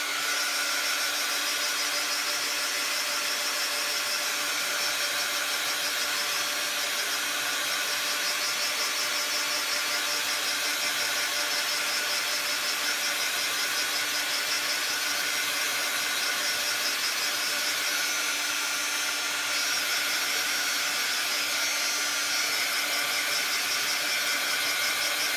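A heat tool dries oil pastels on a handmade poppy card, blowing a constant, loud, even hiss and hum with no pauses from start to finish.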